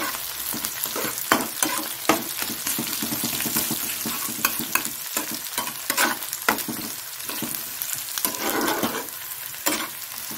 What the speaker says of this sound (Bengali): ভাজা ভালোই হয়ে গেছে।